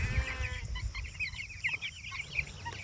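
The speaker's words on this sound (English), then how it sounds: "There's one of these chickens." Chickens cluck in a backyard coop, a soft run of rapid, warbling clucks at moderate distance under low rumbling background noise.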